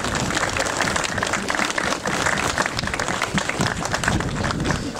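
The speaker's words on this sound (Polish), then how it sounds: "Brawa jeszcze raz." Audience applause at a commemoration of the 80th anniversary of the deportation of Poles to Siberia, a sustained, dense crowd clapping that stays loud and even throughout.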